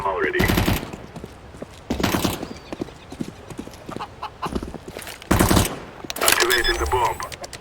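Counter-Strike: Global Offensive gunfire cracks out in short, sharp bursts spaced across the scene, with loud volleys near the start, middle and end over quieter footsteps and game noise.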